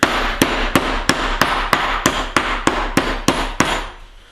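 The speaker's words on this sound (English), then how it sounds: "now watch as I'm pounding this so you see how I'm striking the hammer and rocking it at the same time" A meat hammer pounds steak in about eleven sharp, evenly spaced strikes, loud and close, with no talking.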